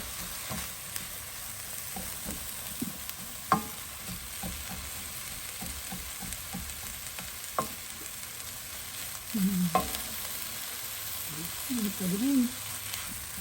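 Ginger, garlic and onion sauté in a pan for ginataang alimasag, a continuous close sizzle with occasional stirring clicks and faint talk in the background.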